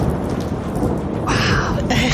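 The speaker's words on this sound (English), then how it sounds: "It's raining." Rain falling steadily with a low rumble of thunder underneath, loud and close, and a brief brighter burst toward the end; no clear speech.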